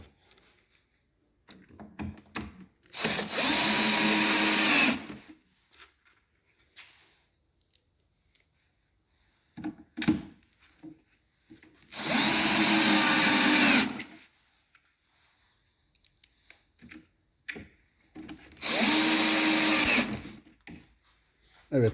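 Cordless power drill driving screws into a cabinet leg during furniture assembly, three separate loud whirring bursts of about two seconds each, separated by quieter handling clicks and knocks.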